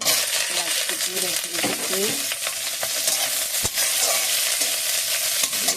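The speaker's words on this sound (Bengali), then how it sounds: "কড়াইতে কালো জিরে ফোড়ন দিয়ে" Nigella seeds sizzle in hot oil in a wok, a loud, close, constant hiss with stirring scrapes and a sharp clink near the middle.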